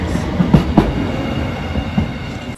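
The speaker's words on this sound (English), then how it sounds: "Really lovely trains." A train pulls away from Alpbach station with a steady low rumble and a few wheel clanks across the rail joints, loud and near under a constant high hiss.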